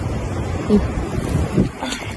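Strong wind gusting along a Danish seashore where sea kale is gathered, a steady low rush and buffeting across the microphone, with brief faint voice fragments in the background.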